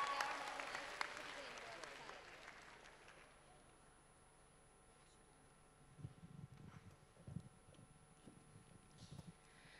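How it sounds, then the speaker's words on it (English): A brief burst of audience applause for a student debater at a scholars' debate showcase in Sydney, fading within a couple of seconds into a quiet room, followed later by faint talk. "can we give a huge round of applause for our second affirmative speaker?"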